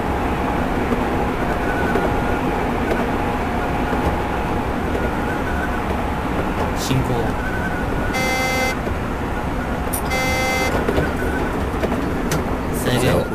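Train driving in the PS2 game Train Simulator on the Keisei, Toei and Keikyu lines, a steady rumbling roar of the running train with brief bell-like signal tones partway through, continuous and fairly loud.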